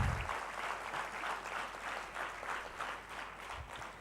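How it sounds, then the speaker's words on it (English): Audience applause at the close of a 2023 English academy graduation ceremony: steady, fairly faint clapping from a crowd that holds for about four seconds without talk. "give a big round of applause to your own self for achieving this certificate"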